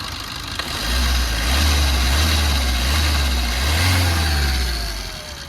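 The diesel engine of a 2016 Maruti Swift Dzire VDI idles steadily with a low, even rumble, rising slightly in pitch a couple of times as if lightly revved, with no talking.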